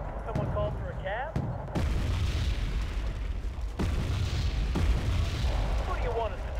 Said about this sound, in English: Okay, mortars.